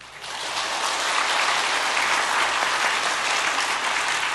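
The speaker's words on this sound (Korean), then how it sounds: "우리 인사하실 때 박수로 환영하겠습니다." A church congregation applauds to welcome new members standing in the upper galleries during a Sunday service, a steady, full round of clapping from many hands that swells quickly and holds evenly throughout.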